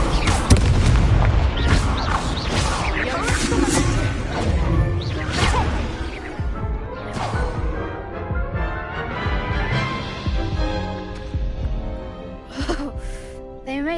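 Incendio fire spells fired in a wizard dueling video game: a dense, loud run of booming blasts, crashes and whooshes that carries on for several seconds, with voices mixed in.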